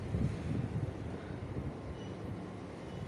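Steady broadband wind roars outdoors at a railway electrification project site, a constant loud whoosh with slight gusty fluctuations and no voices.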